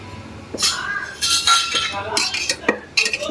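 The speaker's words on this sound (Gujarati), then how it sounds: "હવે તો આપણે હવે કુકર ખોલી લઈ અને ચેક કરી લઈએ કે આપણે બટેકા બફાઈ ગયા" Clinks and clattering of a metal pressure cooker and utensils being handled in a home kitchen, opened to check boiled potatoes, in short bright bursts over a quiet background.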